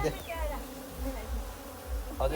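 Honeybees buzzing around a hive, a steady close drone with rising and falling pitch as individual bees pass, faint voices murmuring in the background.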